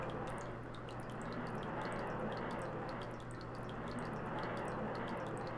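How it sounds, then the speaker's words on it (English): Water drips in a repeated, light patter over a steady, dense wash of ambient noise in Zelda: Ocarina of Time, a continuous backdrop with no speech. "It is making, like, a dripping sound, like a ceiling leak."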